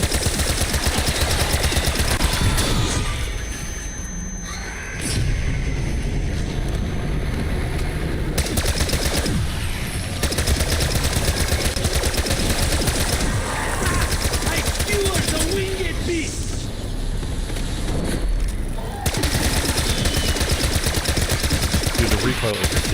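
Automatic weapons fire in Black Ops 6 Zombies on the map The Reckoning, a loud, dense, near-continuous stream of rapid shots with brief lulls, sounding sharp and close and filling the mix.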